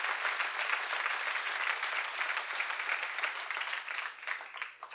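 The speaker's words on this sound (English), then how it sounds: "God deserves a big hand clap for that right there." A church congregation at a night worship service breaks into loud, sustained applause, a dense wash of many hands clapping together that holds steady and then begins to thin toward the end.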